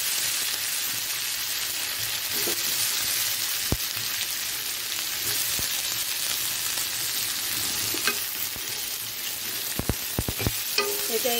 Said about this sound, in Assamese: এতিয়া এইখিনি অলপ ভাজি ল'ম বিলাহীকেইটা সিজালৈকে।